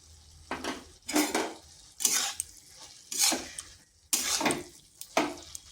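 A utensil stirs thor (banana stem) curry with garam masala in a metal pan, giving five or six distinct clattering scrapes in an uneven rhythm, close and fairly quiet, with no voices.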